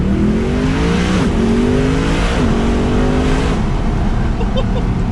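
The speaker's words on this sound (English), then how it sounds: "Have you heard this thing go through the gears?" A Mercedes SLS AMG Black Series engine revs hard, pitch climbing and dropping sharply at each quick twin-clutch gear change, three rapid shifts in a row, loud and close.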